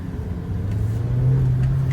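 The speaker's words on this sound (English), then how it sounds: "Pulls cleanly through the rev range." Honda Civic Si engine revving on a test drive, a steady mid-pitched note that climbs as revs build, heard from inside the car with no talk.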